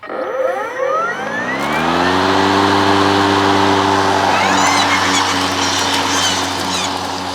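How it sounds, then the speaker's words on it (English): An EGO Speed IQ electric lawn mower's blade motor spins up with a rising whine that settles into a loud, steady hum with strong tonal layers, close by and with no talking. "you hold in that safety button and pull in the bail switch"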